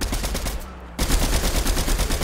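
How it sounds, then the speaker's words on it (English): Dense automatic gunfire from several players in a Fortnite match, rapid overlapping shots that drop out briefly before resuming loudly, with no speech. "Everyone's fucking shooting at him."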